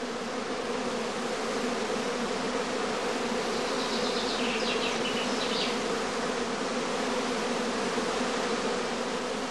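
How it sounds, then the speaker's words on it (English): Honeybee swarm gathering at the entrance of a hive on a warm day, a dense, continuous drone of many wings, steady and close for the whole stretch, no voices. "Warm, sunny days and humid weather in particular encourage the bees to swarm."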